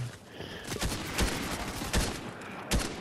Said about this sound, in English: they're trying to shoot me like crazy